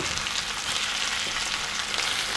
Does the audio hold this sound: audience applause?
no